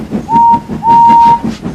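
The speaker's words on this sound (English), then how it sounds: "Goodbye, Henry, she whistled." Two short steady whistle blasts, the second longer, over a soft rhythmic chuffing, like a small steam locomotive sounding off nearby; a narrated children's audio story.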